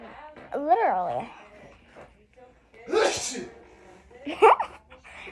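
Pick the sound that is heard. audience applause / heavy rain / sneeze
sneeze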